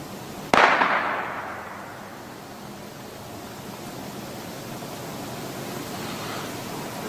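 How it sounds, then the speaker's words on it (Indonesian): A single sharp gunshot from within a forest cracks out, then echoes and rolls away into a long, hissing decay over steady background noise. "That was a gunshot."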